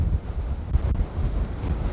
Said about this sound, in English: Problem today is it's extremely windy